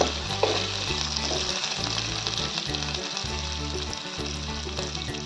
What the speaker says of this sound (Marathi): व लसूण याला छान लाल होईस्तोवर आपण परतून घेऊया लाल होईस्तोवर छान परतून घेऊया आपण कांद्याला